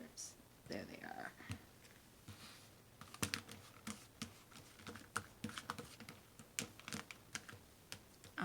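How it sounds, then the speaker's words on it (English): A tarot deck is cut on a table, giving soft, irregular papery taps and clicks, close and fairly faint, with a few sharper snaps. "I'm cutting the deck now"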